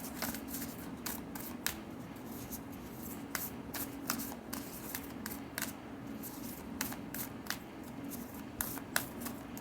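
Oracle cards are shuffled by hand in a steady run of crisp riffling and flicking bursts that repeat through the whole stretch. The sound is close and fairly quiet, with no talking over it.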